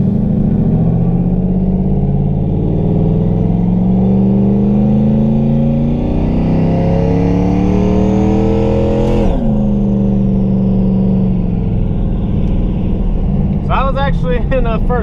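A Mustang with a TH400 automatic transmission accelerates hard from 2,500 to 5,000 rpm, its loud engine drone climbing steadily in pitch before dropping sharply at a shift, then easing off.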